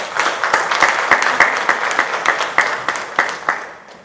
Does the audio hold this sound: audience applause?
yes